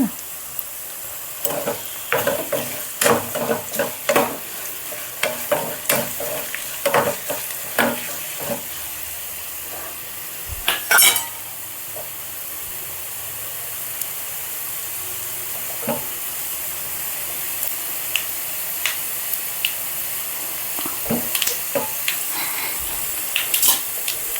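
Andhra tempering with asafoetida sizzling in a pan, a steady hiss of hot oil broken by a run of sharp pops and crackles, plus occasional stirring scrapes, close up.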